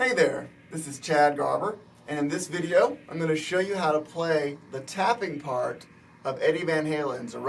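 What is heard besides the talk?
No everyday noises stand out.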